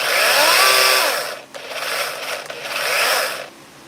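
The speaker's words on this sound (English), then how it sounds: "Because you can never have too many chainsaws." A chainsaw runs close by, its high buzzing whine rising and falling across several revs, with a brief dip before throttling up again.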